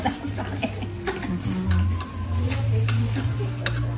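Halo-halo dessert with jelly, leche flan and ice cream being stirred and mixed in a bowl at a Filipino restaurant, giving close, steady scraping and clinking of a spoon over a low background hum, with brief chatter nearby.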